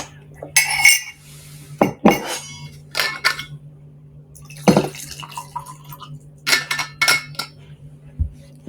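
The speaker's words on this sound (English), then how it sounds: "Let's drink some water." Glass and dishes clink while someone drinks water, giving several sharp, close taps and chinks in irregular bursts over a low steady hum, with no talking.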